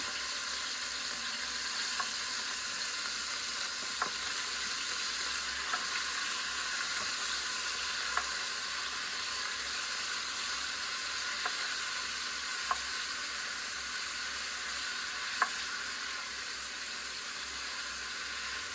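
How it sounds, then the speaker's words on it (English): Chicken seasoned with Maggi, sauce, paprika and diced garlic fries in a pan, giving a steady, even sizzle from start to finish with a few faint clicks and ticks, close and alone. "I'm going to use to fry my prepped chicken"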